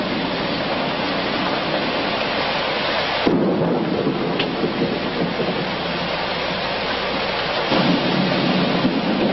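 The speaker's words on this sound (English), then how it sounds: "this whole area is still under rain and it's pretty well drenched" Heavy rain pours steadily in a thunderstorm, a loud unbroken hiss with a deep rumble of thunder and a sharp crack partway through.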